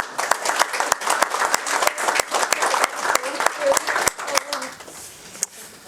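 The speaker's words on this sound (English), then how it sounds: "And a round of applause." Applause from a studio audience after an interview, dense steady clapping that holds for several seconds before thinning out near the end.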